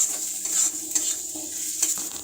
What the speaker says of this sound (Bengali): এবার ভালো করে আমি ভুনে নেব, মানে ভালো করে কষে নেব।